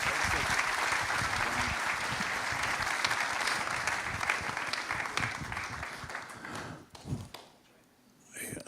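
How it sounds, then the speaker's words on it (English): An audience at a gala event in Jerusalem breaks into warm applause welcoming a speaker, dense sustained clapping from a large crowd that thins and fades out near the end. "let's please welcome him with a warm hand of applause"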